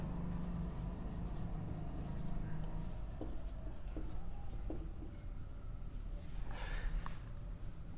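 A pen writes out the main point of a maths question on paper, a close, soft scratching of strokes and short taps broken by brief pauses, with faint breathing under it.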